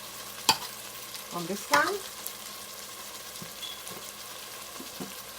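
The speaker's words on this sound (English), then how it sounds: "You want that onion to saute, and they said the best onion to use is the red onion" Red onion sautéing in a pan as Trinidadian jollof rice is cooked, a soft steady sizzle with a few scraping stirs and clinks, heard close up under a brief spoken phrase.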